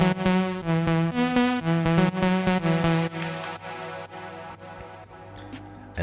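Serum synth lead with a room reverb added, playing a rhythmic melodic phrase of bright buzzy notes, then trailing off into a lingering reverberant tail with a few sparse hits.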